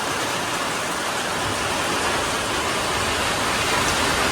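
Heavy rain pours steadily over open farm fields during a May storm with lightning, a dense, continuous roar that stays loud and unbroken throughout.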